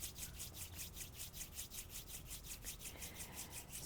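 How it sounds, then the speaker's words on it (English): Palms rubbing briskly together during a kundalini yoga practice, a fast rhythmic swishing friction of evenly spaced strokes that continues steadily throughout, close and fairly quiet, with no talking. "slow down the rubbing of the palms"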